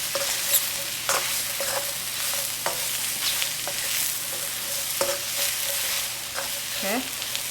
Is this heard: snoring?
no